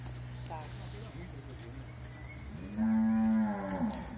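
A young weaned calf in a corral after milking lets out one loud, drawn-out moo near the end. Earlier there are softer lowing sounds and a steady low hum, and people talk nearby.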